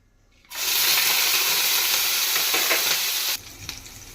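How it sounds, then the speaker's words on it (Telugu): Washed dried prawns dropped into hot oil, an abrupt loud sizzle bursting up after silence, holding steady for about three seconds, then cutting off to light crackling. "ఇప్పుడు మనం ముందుగా కడిగి శుభ్రం చేసుకున్న ఇండ్రాయిల్ని ఆయిల్లో వేసుకోవాలి"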